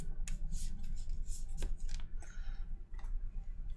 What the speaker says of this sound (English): And shuffle the encounter deck.